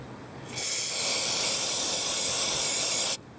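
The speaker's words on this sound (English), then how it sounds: "Spray a lot, just like that." A steady, loud hiss of aerosol cleaner sprayed onto a car's mass airflow sensor, held for about two and a half seconds, then cut off abruptly.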